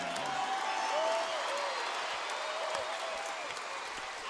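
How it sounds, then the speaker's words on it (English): A boxing crowd applauds YouTuber boxer Deji after his match against Jake Paul, a broad even roar of clapping and cheering spread through a large arena for several seconds, with an announcer's voice over it. "A round of applause for Deji. He gave all he had. Let's give him a hand."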